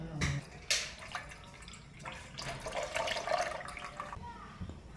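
Milk pours into a pot set to heat for sheer kurma, in soft, splashy liquid bursts with a few drips, fairly faint, with a voice speaking over it.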